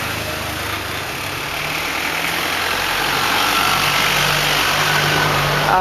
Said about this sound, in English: Hang on, more vehicles coming by.